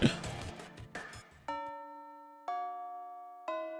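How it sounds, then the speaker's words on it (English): School bell chimes from the Fate/Stay Night visual novel, three clear tonal rings about a second apart, each decaying slowly, following a brief burst of clattering sounds at the start. "The bell rings to announce the end of lunchtime."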